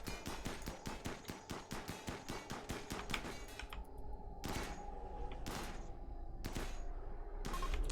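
Rapid gunfire in the video game RimWorld, a fast string of sharp shots for several seconds, then a few spaced, heavier bursts over a steady background hum.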